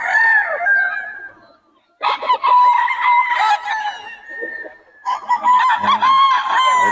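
Several roosters crow loudly in overlapping calls, with hens clucking nearby at a gamefowl gathering in Bocaue; two brief pauses break the busy, close-up noise.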